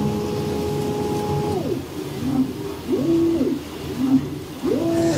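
Creality Falcon 2 Pro 40W laser engraver runs a framing pass, its stepper motors whining in rising and falling tonal sweeps as the head traces the outline, close and fairly loud with no talking.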